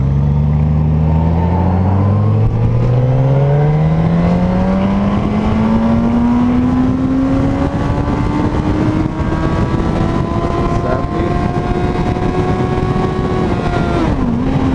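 A 2019 Suzuki GSX-S 1000F motorcycle accelerates hard in first gear, its loud engine note climbing steadily in pitch over several seconds with heavy wind rush, then easing off briefly near the end.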